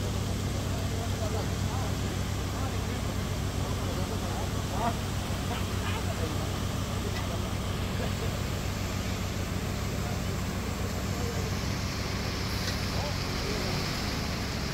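A concrete mixer truck idles while pouring concrete at a cathedral construction site, giving a steady, low rumbling drone that holds unbroken throughout, with a voice faintly present.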